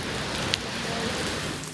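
Winter rain falls steadily outdoors, a close, even hiss of drops striking the ground, with one brief tap standing out partway through.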